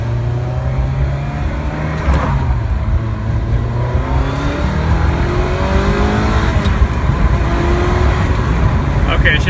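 A 1997 Ferrari F355 Spider engine runs steadily throughout with the exhaust valves shut, a low droning tone and slight pitch shifts, fairly close, with faint background noise.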